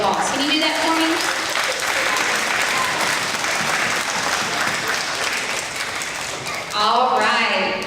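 First grade awards event audience applauding parents, a dense, loud wash of clapping that fills the room, with children's voices and cheers rising over it near the end.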